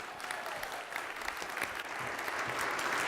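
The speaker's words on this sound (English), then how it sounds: "let's give one more great, rousing round of applause" Steady, dense audience applause at an evening church Lenten comedy show, building slightly louder toward the end, with no voices over it.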